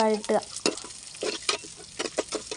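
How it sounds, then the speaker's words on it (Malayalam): Curry leaves sauté in hot oil for a homestyle Kerala chicken curry, crackling and popping in sharp bursts as a spoon stirs and scrapes the pan close up. "നമുക്കതിലേക്ക് കുറച്ച് കറിവേപ്പില നന്നായിട്ട് ഇളക്കുക"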